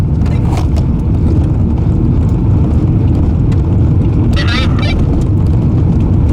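A VW TDI car being bump started with the clutch dumped, heard as a loud, steady rumble of rolling and wind noise throughout, with a voice talking over it and no engine catching.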